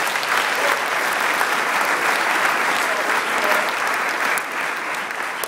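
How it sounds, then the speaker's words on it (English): An audience at True North claps and cheers in sustained, loud applause, a dense wash of clapping that holds steady and then dips slightly near the end. "let's clap it up one more time for Dan."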